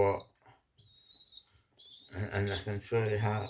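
Birds in a pigeon loft where several breeds are kept: thin whistling calls and soft coos, near and moderately loud, under no speech, with fuller throaty cooing swelling toward the end.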